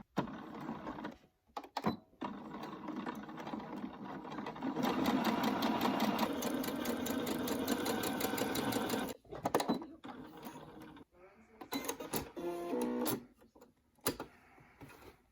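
Sewing machine stitching fabric for a puff sleeve top, running in several bursts of steady mechanical whirring, with short pauses and handling clicks between runs, close up.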